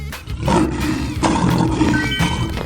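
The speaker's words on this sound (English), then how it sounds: "Lion." Lion roaring in a 3D animal slide video game, a loud sustained roar in two long surges over background game music.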